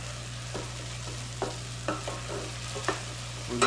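Garlic stirred in oil in a pan for a whiskey-honey barbecue sauce: a soft steady sizzle under a low hum, with a few scraping strokes of a utensil against the pan.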